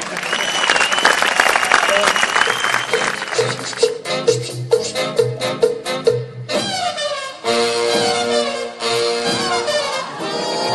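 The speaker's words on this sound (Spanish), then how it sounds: "¡Aplauso!" A theater audience at a comedy show claps in a dense burst of applause that thins into scattered claps, with voices and laughter mixed in.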